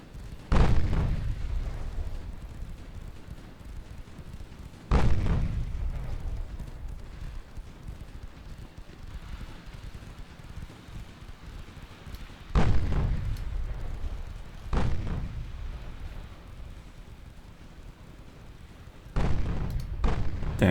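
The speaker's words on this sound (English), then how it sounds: "Two-inch guns, fire!" Two-inch naval guns firing in a warship battle game, four separate heavy booms spaced several seconds apart, each decaying into a rumbling tail.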